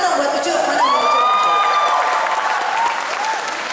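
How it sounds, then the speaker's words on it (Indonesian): A lively crowd at an Indonesian talk show claps loudly for a guest café owner, with dense steady applause, whoops and cheering voices rising above it before it gradually thins out. "tepuk tangan buat Ucup"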